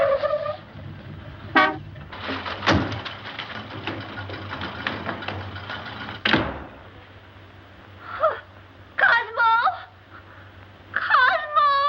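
Short car horn toots ring out in bursts over a rumbling motor and passing traffic noise, heard in a 1941 comedy film scene.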